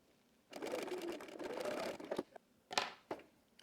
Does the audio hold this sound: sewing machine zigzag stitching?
yes